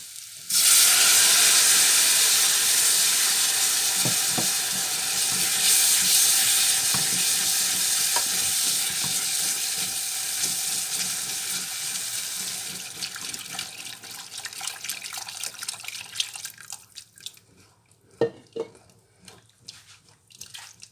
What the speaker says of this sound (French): Et là, on verse le bouillon. On va verser un peu à la fois.